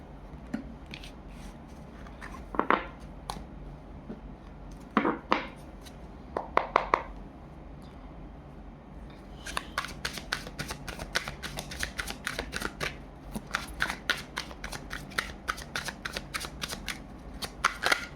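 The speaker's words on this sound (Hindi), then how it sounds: "सारे कार्ड्स ले लेती हूँ, फिर से शफल करेंगे" Tarot cards being shuffled by hand: soft, scattered riffles and slaps early on, then a long run of rapid crisp card flicks, close and fairly quiet with no voices.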